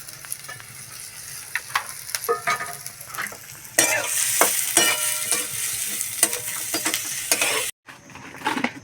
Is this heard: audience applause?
no